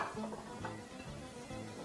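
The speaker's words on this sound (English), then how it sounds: "add your liqueur right at the back here and just allow that to cook in the pan really quickly" Liqueur cooking quickly in a pan for crêpe Suzette, a soft steady sizzle with light stirring and faint scrapes of utensil against metal, close and continuous with no voices.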